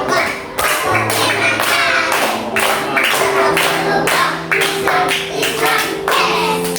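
Rhythmic finger clapping in an ice-breaking classroom game, about ten sharp, evenly spaced claps close by, with a chanted voice running underneath between the strikes.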